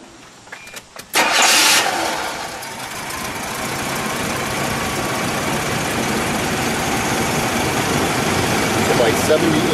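A 1978 Buick Regal Sport Coupe with a 3.8 litre turbo even-fire V6 cranks briefly, catches with a loud burst, then settles into a steady, rumbling idle heard up close.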